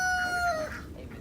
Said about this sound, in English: If you got a broody chicken,